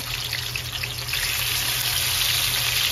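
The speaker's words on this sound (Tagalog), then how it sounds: "nagpainit na po tayo ng mantika para i-prito natin bahagya to" Pieces of food fry in hot cooking oil, a loud, steady sizzle with a bright crackle that runs unbroken from start to finish.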